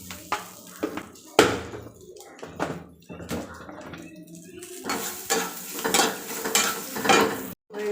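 Green chilies frying in a pan for a Bengali recipe, with loud clattering and scraping of a utensil against the pan in bursts and a sizzle underneath throughout.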